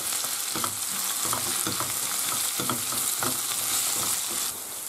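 Leek, onion and carrot sautéing in a pan, a dense steady sizzle with repeated stirring strokes throughout, close and fairly loud.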